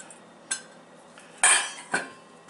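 A metal spoon scrapes ripe avocado flesh from its skin, giving three short, close scraping strokes spaced about half a second apart against a quiet background.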